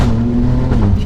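A 2020 Alfa Romeo Stelvio Quadrifoglio SUV engine revs loud and close, with a steady deep growl that holds through the brief burst before easing slightly near the end.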